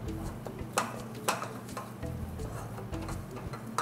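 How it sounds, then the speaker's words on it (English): Wooden spoon stirring thick choux pastry dough in a pot on the stove, soft rhythmic scrapes and thuds repeating about every half second over a low sizzle, close and quiet. "Start to stir the dough together."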